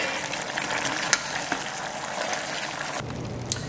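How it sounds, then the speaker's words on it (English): Vegetables and corn are stirred into a simmering beef stew, a steady wet bubbling sizzle with a few sharp spoon clinks against the pot. "we're going to go ahead and add our vegetables, our corn, and we're going to mix that very good"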